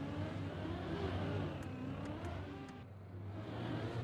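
A racing game car engine drones steadily through the gears, rising and falling in pitch as it revs between shifts, faint and distant with a continuous buzzing whine.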